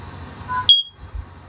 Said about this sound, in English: now once you hear that chirp